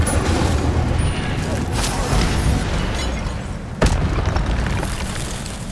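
An Incendio fire spell blast in Hogwarts Legacy, a loud booming burst followed by a sharp crack, set against a dense, roaring game soundscape.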